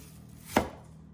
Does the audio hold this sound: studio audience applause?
no